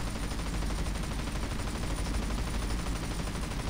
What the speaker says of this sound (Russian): вот я стреляю по ним, а они не взрываются